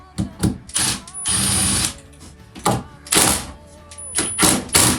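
A power driver whirs in several short bursts and one longer run, close and fairly loud, as countersunk screws go into the wood of an antique hutch.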